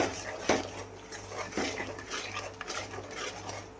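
Masala with ginger garlic paste is stirred in a pot for Andhra-style mutton paya: soft scraping with a few sharp spoon clinks against the metal, close and fairly quiet, with no talking.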